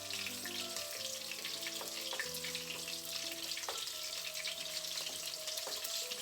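Tortang dilis, an anchovy omelette, sizzles steadily in a pan, a soft continuous frying hiss with faint clinks, no talking.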